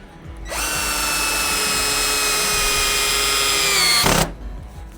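A Ryobi One 18V drill-driver drives a screw in one continuous high whine lasting a few seconds. The pitch sags slightly as the screw seats, then the motor cuts off abruptly.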